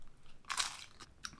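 Someone bites into a tortilla chip topped with guacamole, giving one crisp crunch followed by a couple of fainter chewing crunches, heard close and quiet with no talking.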